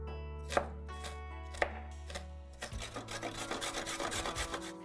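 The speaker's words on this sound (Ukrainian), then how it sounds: "Цибулю ріжемо міленько, морквину тремо на терочку." An onion is finely chopped with a knife, giving a few sharp, separate cuts, and then a carrot is grated on a hand grater in a quick, steady rasping rhythm. The sounds are close and moderately loud, with no talking.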